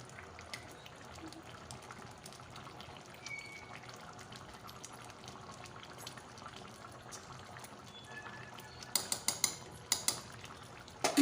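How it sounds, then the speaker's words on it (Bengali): Garam masala and ghee being stirred into a pumpkin curry in a pan, a faint steady scraping and sizzling bed, with a run of sharp metallic spoon taps against the pot near the end. "ভালো করে মশলাগুলো তরকারির সাথে মিশিয়ে নেব।"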